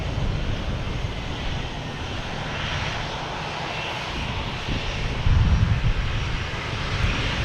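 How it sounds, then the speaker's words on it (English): An Alaska Airlines jet arriving at Boston Logan Airport from Seattle produces a steady, distant engine roar over outdoor wind noise, swelling slightly toward the end, with no talking. "We have Alaskan Airlines coming in from Seattle."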